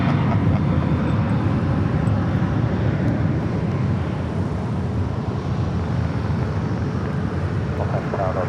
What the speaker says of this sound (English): DHL AVX Airflight 480 heading to Cincinnati, and the 767-300ER taking off there on 25 left